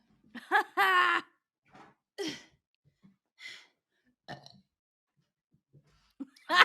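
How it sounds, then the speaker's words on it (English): A person lets out several burps of varying length, one long drawn-out belch near the start followed by shorter ones spaced through quiet gaps, close and clear. "I will say when I burp, it feels really good, like in my chest."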